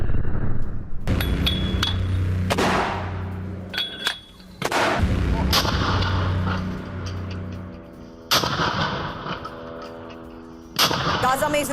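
Gunfire crackles during a Hamas attack on an Israeli army convoy in Gaza, heavy booming reports and rattling bursts that come in several loud waves with brief lulls between them.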